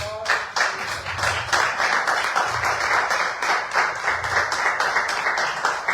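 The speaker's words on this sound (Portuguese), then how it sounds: "Deixa marcadinho nessa passagem as palmas para o Senhor Jesus." A church congregation claps together through a worship service, with steady, dense applause filling the room for about six seconds and no voice speaking over it.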